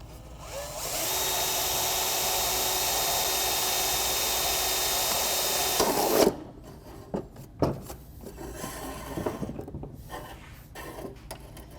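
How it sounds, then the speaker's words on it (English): A power riveter sets a rivet through a freshly sealed gutter splice, with a steady loud whir for about five seconds, then a sharp pop and a few scattered clanks and rattles of the metal gutter. "put a rivet through and drive it home"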